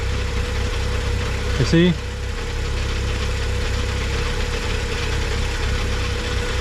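A BMW N55 engine idles steadily during break-in, a low, even rumble with a faint mechanical ticking up close; someone speaks briefly over it.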